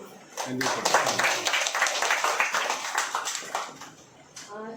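A small group at a church community gathering claps briefly for a priest, a short burst of scattered hand claps nearby that begins after a moment and tapers off, with a voice speaking over it.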